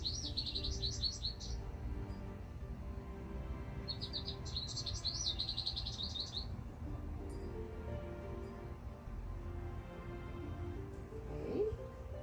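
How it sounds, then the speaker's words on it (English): A recorded American goldfinch song plays as two bright bursts of rapid high twittering trills, each about two seconds long, heard faintly over a quiet room hum. "And this is what the goldfinch sounds like."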